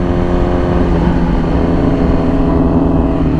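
Yamaha R6 sport bike with an extremely loud exhaust holding high revs, a continuous raspy, buzzing engine roar up close, steady and slightly wavering with no voices.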